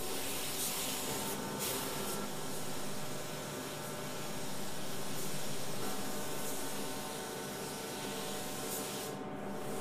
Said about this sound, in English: wetting it out, tight pattern overlap, keeping the gun parallel, all important.